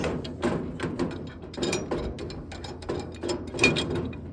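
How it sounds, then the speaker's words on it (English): Pool heater gas valve being loosened with a big pipe wrench, giving repeated ratcheting, grinding metal clicks and knocks in irregular bursts, close and moderately loud, with no talking. "Now we're going to loosen the valve."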